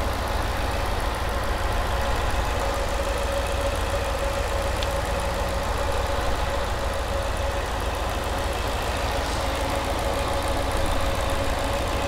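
A 2021 Ford F-150 Shelby Super Snake pickup engine idles steadily and smoothly throughout, a constant low rumble with a faint steady hum, no voices.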